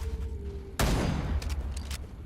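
Gunfire rips out in Wild Assault, a sudden loud burst of rapid shots that hits after a quiet moment and keeps rattling with sharp cracks over a low background hum.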